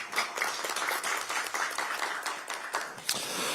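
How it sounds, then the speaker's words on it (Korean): An audience at a Korean political gathering applauds a lawmaker, giving a lively, moderately loud round of mixed clapping that carries on for several seconds without speech. "박수 한번 보내주시기 바랍니다"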